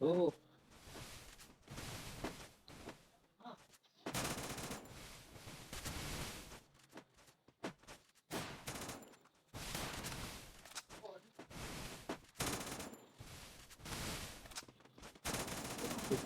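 Gunfire from a gun in a Free Fire-style mobile shooter, bursts of rapid shots in clusters separated by short quiet gaps, fairly faint overall, with talk mixed in.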